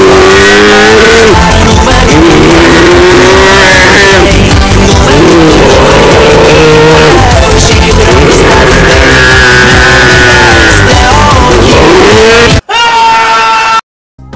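A Dacia 1310 fitted with a 1.4-liter carbureted 8-valve engine running on nitrous oxide revs loudly and continuously, rising and falling in pitch for about twelve seconds before a short, thinner burst at the end.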